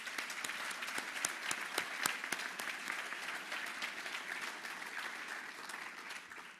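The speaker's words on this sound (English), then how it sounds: "Please join me in thanking them with a round of applause." Audience applause at a National Honor Society induction ceremony, a sustained round of clapping with individual sharp claps standing out, even and moderate in level from start to end.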